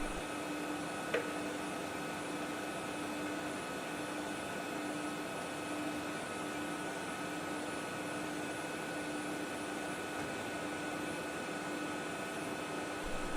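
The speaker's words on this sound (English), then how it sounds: "The grinding process is highly accurate, producing sharp and uniform cutting edges, suitable for high-performance operations." A CNC grinding machine, the A95, sharpens blade cutting edges with a steady, even mechanical whine and hum throughout, with one sharp click near the start and no voices.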